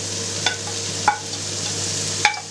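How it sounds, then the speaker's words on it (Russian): Chopped onion frying in olive oil in a pan, a steady close sizzle with three sharp clinks of a utensil stirring against the pan, no voices. "И в первую очередь обжариваем лучок."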